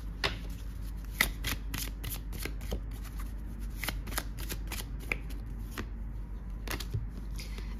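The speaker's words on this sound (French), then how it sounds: "Je vais prendre une carte de l'archange." Archangel oracle cards are shuffled by hand in a string of quick, crisp riffling flicks that repeat steadily, close and fairly quiet, with no one speaking.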